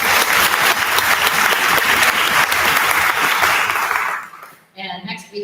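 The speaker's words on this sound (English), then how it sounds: "Round of applause." Audience applause at a school orchestra concert, dense steady clapping from a full hall for about four seconds before fading out, with a voice speaking briefly as it ends.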